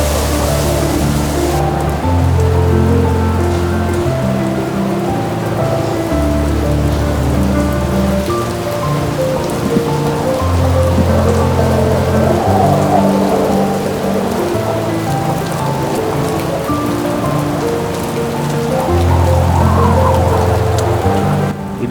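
Heavy, non-stop rain pours down during the 2023 Chennai flood in Chemmenchery, a dense steady hiss that stays loud for the whole stretch, with low sustained tones layered over it.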